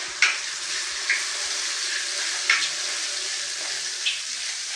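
Four green chillies fry in a pan for chicken green masala. A steady, moderate hiss runs throughout, broken by a few light taps and pops at regular intervals.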